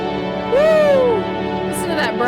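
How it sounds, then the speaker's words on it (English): Brass from the Disco Elysium soundtrack holds steady, sustained chords throughout, while a voice cuts over it with a rising-and-falling exclamation. "Listen to that brass."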